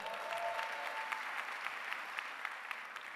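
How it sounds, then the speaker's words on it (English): An audience at a school district management meeting applauds newly promoted vice principals, a steady even wash of clapping from many hands throughout. "give them another round of applause"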